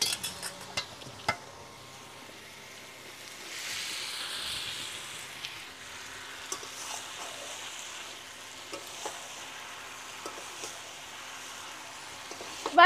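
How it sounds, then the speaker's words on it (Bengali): Potatoes and pointed gourd go into a pan already holding tomato and a little water, with a soft clatter, followed by gentle, low sizzling and occasional scrapes of stirring. "না, এবারে এর মধ্যে আলু আর পটলগুলো দিয়ে দিব।"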